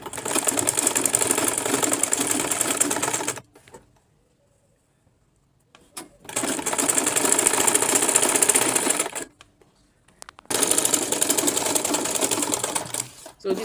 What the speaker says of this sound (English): So now you drag and take it to your sewing machine. Then you sew from this downside, not up.